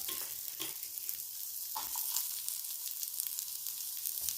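Garlic and onion sautéing in oil with lentils and dried red chilies for moringa thokku, a constant fairly quiet crackling sizzle with occasional soft stirring scrapes.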